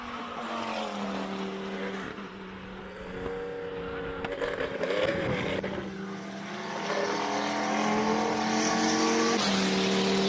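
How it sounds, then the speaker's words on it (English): A Porsche 911 in Martini race livery at a Cape Town classic hillclimb, its engine droning and revving at a moderate distance, rising and falling as it passes with a steady flat-six tone. "Driving the 911 Martini Porsche."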